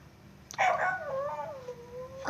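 A dog in the game Adopt Me lets out a single drawn-out howl, starting high and sliding lower, close by, followed by the start of another.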